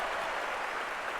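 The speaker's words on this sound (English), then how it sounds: "Oh, loud applause, loud applause." Applause in World of Warcraft, a brief, dense wash of clapping at steady moderate loudness that fills the moment with no voices over it.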